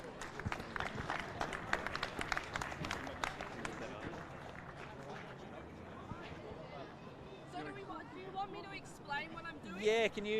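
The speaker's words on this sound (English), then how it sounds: "Round of applause." A crowd applauds Bree Walker at a Victorian Athletic League meet at Ringwood. Steady clapping fills the first half, then gives way to nearby voices and chatter.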